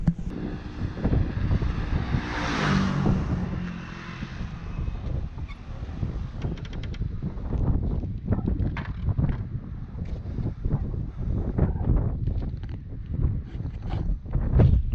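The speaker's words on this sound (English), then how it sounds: "I think it's a bit windy" Gusty wind on Mykonos buffets the microphone in loud, uneven rumbling blasts, with a hazy whooshing swell early on.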